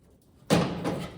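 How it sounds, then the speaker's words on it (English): Pry bar levering up the outer lip of a steel door skin at the pinch weld on a 1970 GMC truck cab, with a sudden sharp metallic bang followed by a sustained scraping, ringing rasp close by. "just using this little pry bar to open up that pinch weld there"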